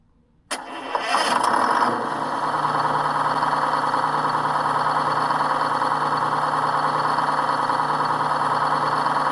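An RC truck sound module imitating a 671 Detroit two-stroke diesel cranks and fires with a loud burst, then settles into a steady, droning idle that runs alone for several seconds.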